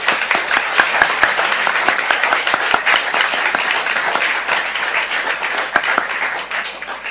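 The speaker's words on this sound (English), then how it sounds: "let's give a hand of applause for Mike." Sustained applause from an audience, dense steady clapping that carries on throughout before starting to taper off near the end.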